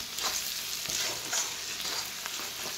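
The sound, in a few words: egg frying in a pan with spices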